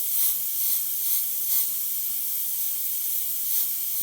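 An airbrush sprays paint at raised air pressure: a constant bright hiss with faint pulsing swells every second or so, close and steady, with no voices.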